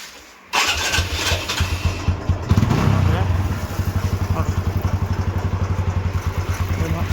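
A TVS Apache RTR 160 motorcycle engine starts with a short crank, then settles into a steady, close, rhythmic idle. Voices talk over part of it.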